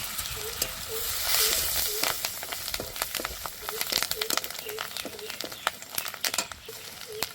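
Garlic fries with black cumin in hot oil, giving a continuous sizzle broken by sharp crackles and spatters, while a faint voice murmurs underneath.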